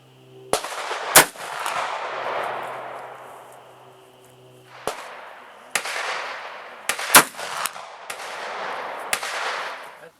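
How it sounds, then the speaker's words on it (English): Ruger Super Redhawk revolver chambered in .454 Casull fires several sharp, loud outdoor shots at irregular intervals, each followed by a long rolling echo. "The 454 Casull. This is a man's gun right here."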